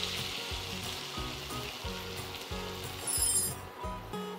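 Chopped onion and curry leaves with a pinch of asafoetida sizzle steadily in a pan, a close continuous frying crackle with faint rhythmic stirring scrapes.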